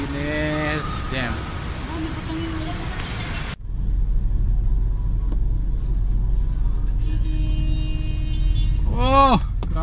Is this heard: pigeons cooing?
no